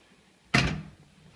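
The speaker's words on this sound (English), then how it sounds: "Close the door." A Trane heat pump cabinet door is shut with a single solid thud followed by a short fading rattle, loud and close, in an otherwise quiet room.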